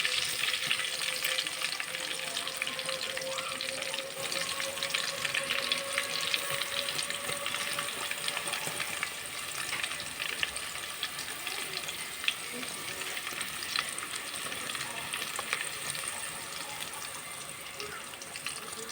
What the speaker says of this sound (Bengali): এভাবে আমি পেঁয়াজগুলো ভালো করে কষিয়ে নেব